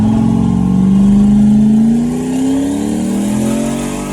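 A Mini Duster car engine revving up loudly as it accelerates, its pitch climbing steadily, then dropping back slightly.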